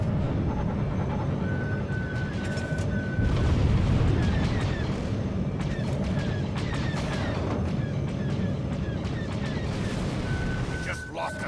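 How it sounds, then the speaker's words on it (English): Enemy ship missile launches and explosions in the space strategy game T2S. Deep rumbling booms and blasts pile up continuously beneath repeated beeping alert tones, loud and close. "Target ship launching missiles"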